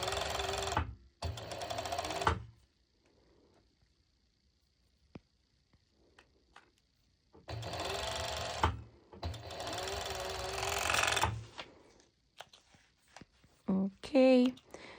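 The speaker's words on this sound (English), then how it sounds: "I'm going to do an overlock stitch, so I will serge it as well" A serger runs an overlock stitch along the edge of fabric for a sporty cut-out top, in two loud bursts of steady mechanical whirring separated by quiet gaps, then a longer run near the end with a few short sounds after it.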